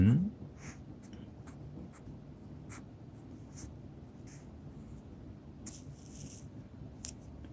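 A pen makes a series of short, faint scratching strokes on paper, lightly spaced and irregular, with a quiet low hum behind.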